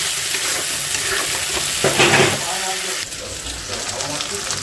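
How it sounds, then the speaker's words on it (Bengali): Curry sautéing and being stirred in a pan, a steady broadband sizzle with scraping stir strokes, one louder burst partway through. "এবার এটাকে দিয়ে ভালো করে কষাবো"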